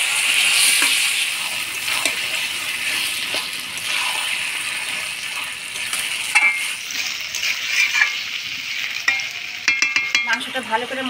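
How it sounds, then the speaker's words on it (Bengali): Mutton being stirred through spices and chopped tomato in a hot pan, a steady sizzle with repeated scraping strokes of a spoon, ending in a few sharper clinks, no talking. "মাংসটা ভালো করে মশলার সাথে নাড়াচাড়া করে নিলাম"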